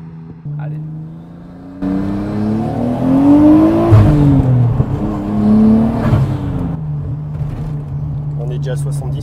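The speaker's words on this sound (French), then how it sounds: "Ah, ça accélère vite." A Nissan Skyline GTS-T turbo accelerates hard, its engine note climbing through rising revs with a gear change midway, loud and close from inside the car, with people talking over it.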